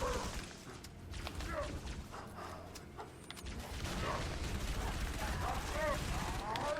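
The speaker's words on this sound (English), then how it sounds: "All right, so shoot some of these dudes here." Gunfire in the video game Halo ODST: scattered shots and bursts of weapon fire at moderate level over game sounds and alien chatter, growing busier toward the end while a voice talks.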